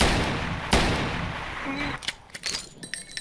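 A few revolver shots in Garry's Mod: one sharp, loud crack near the start, then several quicker, fainter pops trailing off with game noise around them.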